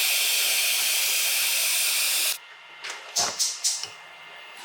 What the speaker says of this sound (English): First thing we're gonna need is a pot and get some water boiling.